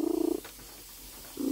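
A cat purring very loudly up close, a strong rhythmic rumbling burst at the start, a pause, then the purr resuming at the end.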